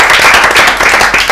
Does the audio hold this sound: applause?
yes